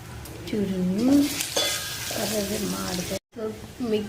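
Tomato rasam with tamarind cooks in a pan, a steady sizzle and stirring scrapes close up, with someone talking over it and a brief silent gap near the end.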